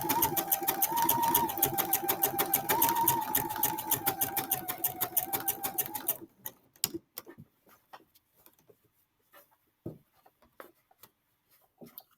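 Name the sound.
sewing machine zigzag stitching over a hole in work pants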